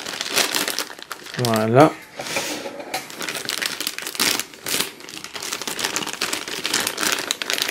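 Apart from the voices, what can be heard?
opening a Toy Story Mystery Minis blind box packaging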